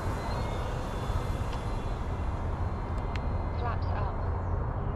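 A CNHL Super Tucano 1600mm RC airplane makes a slow pass at about half throttle with full flap, a steady, fairly distant engine drone heard outdoors with a voice talking over it.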